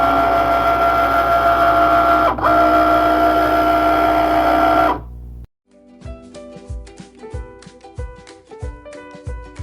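A Cricut machine cuts cards held on a 2 x 2 card mat: a loud, steady motorized whir runs for about five seconds, then stops and gives way to quieter, rapid mechanical clicks and ticks.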